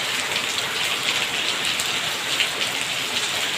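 Steady rain pouring down, a dense even hiss of drops on a surface, continuous and fairly close, with no voices.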